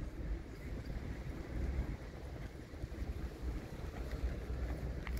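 Harbour ambience at the port of Salerno, Italy, where sailing ships are moored: faint wind buffets the microphone over soft lapping water, with no voices.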